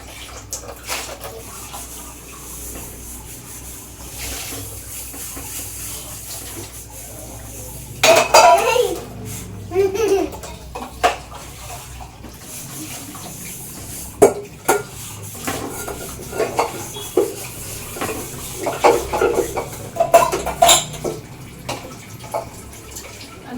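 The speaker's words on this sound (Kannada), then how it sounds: "ಅದಕ್ಕೆ ನನಗೀಗ ಪಾತ್ರೆ ತೊಳೆಯೋಕೆ ಹೆಲ್ಪ್ ಮಾಡ್ತಾವಂತೆ" Dishes, pots and cutlery being washed at a home sink with a young son helping, heard as intermittent clinks and clatters of metal and crockery over a steady background of running water.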